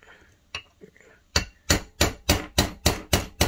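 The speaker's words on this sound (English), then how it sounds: "we can go ahead and hit the pin the rest of the way through here now" Sharp metallic hammer blows drive a pin the rest of the way through an AR15 gas block on an Aero Precision upper. A few lighter taps come first, then about seven evenly spaced, loud, ringing strikes.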